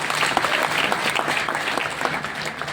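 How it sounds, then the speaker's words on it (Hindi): Crowd at a political rally in Patna, Bihar breaks into applause, a continuous, fairly loud patter of many hands clapping with no pauses. "जैसे ही सरकारी नौकरी का बात किए, तुरंत ताली बजा रहा है।"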